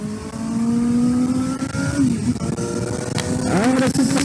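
A Suzuki GSR 750 motorcycle accelerates on the road, its engine rising in pitch, dipping at a gear change, then climbing again under heavy wind noise, loud and close.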